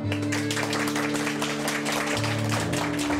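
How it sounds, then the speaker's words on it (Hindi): A farewell crowd gathered to see someone off claps continuously, a dense, even wash of applause over a steady tonal hum, with no clear speech. "आप लोग तालियां बजाइएगा"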